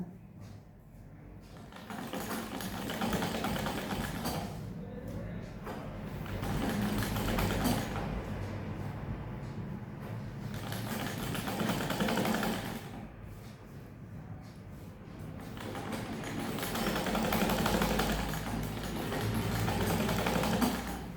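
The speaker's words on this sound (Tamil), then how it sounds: "லைனிங்கில் இது கை தான் நம்ம தைக்கணும் பாருங்க" A sewing machine stitches a garment neckline and lining in long, fairly loud motor runs broken by short pauses, its whirring rising and falling with each burst, with no talk.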